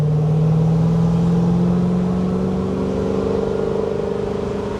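1964 Corvette engine revving close by: a loud, deep roar that rises in pitch and then settles into a steady throaty idle with a faint pulsing rhythm.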